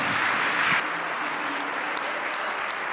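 Applause fills the room at a baptism celebration welcoming three brothers, a steady dense clapping that swells briefly near the start, then holds even and fairly close without talk.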